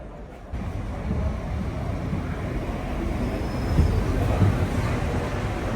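A train moving on the line between Ballymena and Belfast, heard as a steady low rumble and rolling noise that swells slightly, with faint wind over the microphone.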